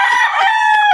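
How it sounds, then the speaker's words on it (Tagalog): A rooster crows loudly and close by in a single short call, alone without talk. "Maurag pala ng pagkahulog ng mga manok ni Joker"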